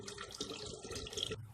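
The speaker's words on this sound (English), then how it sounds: "Now we are filling the water." Water running steadily into a tank for a green sand permeability test, a brief, soft rush of flowing tap water with no talk.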